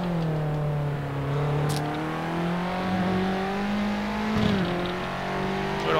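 A Formula Abarth race car, based on a 2-litre Formula Renault, drones at Monza in a racing video game, its engine note holding a steady high whine and then briefly dipping around a gearshift, with no speech.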